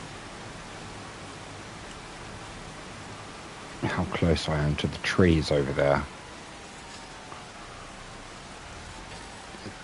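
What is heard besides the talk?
rain sounds in the video game Farming Simulator 25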